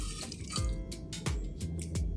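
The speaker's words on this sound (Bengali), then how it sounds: "এবার আমি ধুয়ে এটা তুলে নিব পাত্রে" Cut vegetables, including sweet potato, potato, carrot and cauliflower, rinsed under running water, giving a soft, close splashing trickle with a few brief drips and sloshes, quiet and alone.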